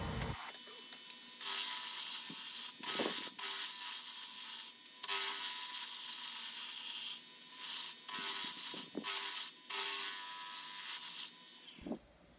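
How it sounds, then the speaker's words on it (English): A gouge chatters against a spinning hardwood pizza cutter handle on a lathe, making rapid ratcheting scrapes in repeated bursts with brief pauses as each cut starts and stops, close and fairly loud. "You'll be able to hear some chatter as I use this piece."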